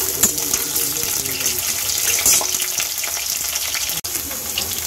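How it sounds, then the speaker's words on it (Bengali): Potatoes frying in oil in a pan for a vegetarian aloo dum, a steady, close, loud sizzle with occasional stirring scrapes throughout and no talking. "আলুটা আমার ভাজা হয়ে গেছে, এবার মশলা দিয়ে দেবো আলুতে।"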